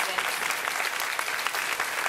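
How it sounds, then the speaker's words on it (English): A crowd applauding steadily at a beauty pageant, dense and loud clapping from many hands filling the room without a break. "A round of applause for every single one of these state contestants"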